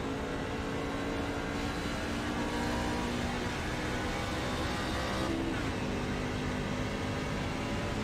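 A race truck in an AARL truck series event at WWT Raceway drones with a steady, loud engine roar throughout, with a brief shift in tone partway through that may be a gear change.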